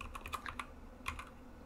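Computer keyboard keys tapped in quick bursts while entering data labels, a handful of light, close clicks in two short clusters with a brief pause between.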